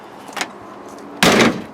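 Door of a 1960 Ford Falcon with a repaired, formerly sagging hinge: a light click or latch tap, then a solid nearby slam shutting the door, heard alone without voices.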